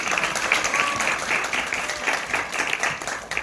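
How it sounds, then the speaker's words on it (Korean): An audience at a youth policy proposal contest applauds with steady, continuous clapping throughout. "박수 부탁드리겠습니다"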